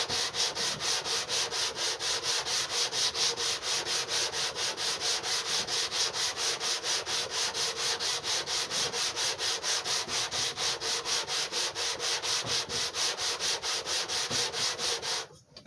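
A Tecumseh HH100 engine head rubbed back and forth across sandpaper with even downward pressure, a fast, regular rasping scrape repeating steadily for about fifteen seconds before stopping.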